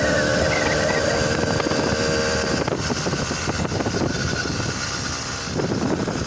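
A 100cc EK100 bicycle engine kit, running weak out of the box, strains uphill with a steady, loud buzzing drone that holds continuously throughout without any talk.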